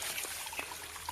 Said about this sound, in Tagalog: Galing dito yung tubig eh